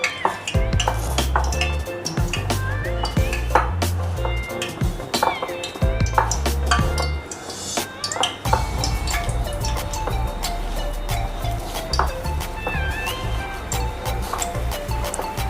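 Sweet corn and besan batter squelched and mixed by hand in a bowl, a dense, continuous wet churning with frequent clinks against the bowl, loud and close throughout, with no talking.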